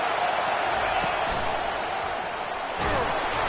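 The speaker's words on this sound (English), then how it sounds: "Decibels rising as the crowd gets behind this defense on 3rd down." A football stadium crowd roars behind the home defense on 3rd down, a broad, steady wash of cheering noise with a short dip and swell near the end; a voice talks briefly under it.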